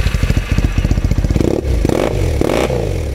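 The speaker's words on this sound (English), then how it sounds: "Big motorcycle, tiny little battery, starts up like a charm." Big motorcycle engine cranking with rapid rhythmic chugs from a tiny new battery, then catching and firing up into a loud, rough idle with a couple of throttle blips, close by and without talking.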